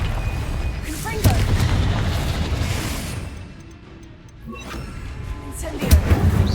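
Confringo fire spells blast in Hogwarts Legacy as deep, heavy booms with rumbling tails, one early and another near the end, over a continuous low roar of combat.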